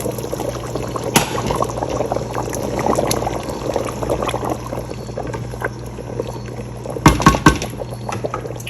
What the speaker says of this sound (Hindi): ये जो पानी है, जो खौलता हुआ पानी है, वो मैं अब इसमें